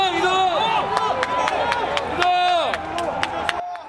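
Special forces soldiers clap while withdrawing after martial law is lifted; sharp, evenly spaced claps ring out over a hubbub of nearby voices and general crowd noise.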